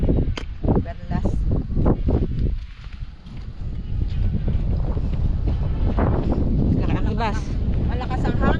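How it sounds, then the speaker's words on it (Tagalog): Strong wind gusting over the sea while boating, buffeting the microphone in a steady loud roar, with a person talking over it. "Malakas ang hangin."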